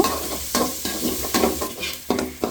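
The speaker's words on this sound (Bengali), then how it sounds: "তেলের মধ্যে দিয়েছি পেঁয়াজ কুচি প্রায় এক কাপের মতো এগুলোকেও এখন হালকা ভেজে নিব" About a cup of chopped onions frying in oil for chicken curry, a close, steady sizzle punctuated by rhythmic scraping stirs roughly every half second, no voices.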